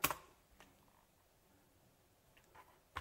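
Soft, sparse key presses on a computer keyboard while entering a password at a terminal: a couple of isolated clicks at the start and end with quiet gaps between, close and faint.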